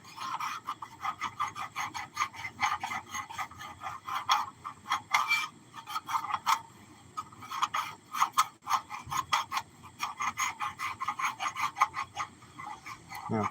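Old gasket material is scraped by hand off an engine mating surface during a water pump replacement, with repeated rasping strokes in an uneven rhythm, close and fairly loud, and no talk.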